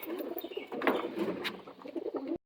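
Madras pigeons cooing in soft, repeated throaty coos with some fluttering, close by and fairly quiet, stopping abruptly.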